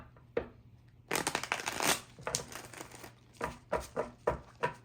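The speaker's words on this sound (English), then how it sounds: "Let's go ahead and shuffle the cards for you." Tarot cards shuffled by hand in bursts of riffling and flicking, close and fairly quiet, with a single tap early on and no talking.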